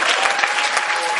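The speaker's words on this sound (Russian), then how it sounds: "Встречайте аплодисментами." An audience at a live stage concert claps to welcome a duet, producing dense, steady applause close by that fills the whole moment with no voices.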